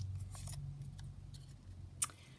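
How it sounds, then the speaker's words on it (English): Scissors snip around a printed card in a papercraft kit, a few soft cuts followed by one sharp, close snip, heard alone over a low background hum. "So we'll just cut round this one."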